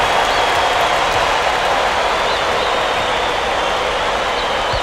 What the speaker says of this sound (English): This crowd couldn't be any happier. Just listen to the people in this building.